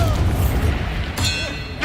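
A Confringo fire spell blasts in the video game Hogwarts Legacy, giving a loud booming thud followed by a bright ringing crack, short and close.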